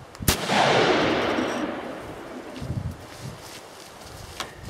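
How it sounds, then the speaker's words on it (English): A Remington Model 7 rifle in .243 fires factory 100 grain ammunition, a single sharp, loud report followed by a long rolling echo that fades outdoors, no voices. "here we've got a Remington Model 7243, shooting factory 100 grain Corlock ammunition"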